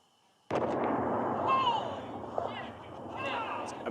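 An American missile test firing: after near silence, a sudden loud launch blast gives way to a sustained roar and rumble, with a faint voice partly under it.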